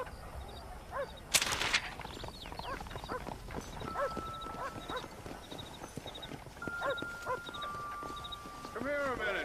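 Horse hooves clip-clop at a steady gallop in the Red Dead Redemption video game, a continuous rhythmic patter under frequent talk, with a sharp crack near the start and game music tones.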